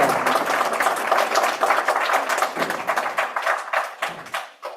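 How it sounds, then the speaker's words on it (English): A church audience gives loud, sustained applause of many hands clapping together, dense and steady at first, then thinning and tapering off near the end. "can y'all just say thank you with a big, loudest clap you can give him?"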